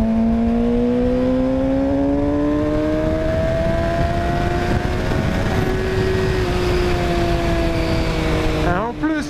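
A motorcycle engine screams as it revs, its pitch climbing steadily to a very high rpm. The sound is loud and sustained, with a sharp change in tone near the end.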